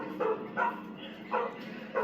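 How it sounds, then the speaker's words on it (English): A dog, resembling a Dogo Argentino, barks in a film scene, four evenly spaced sharp barks over a roomy background, fairly close and prominent. "there's a scene I'll show with a dog in it, and it kind of looks like my dog, a Dogo Argentino"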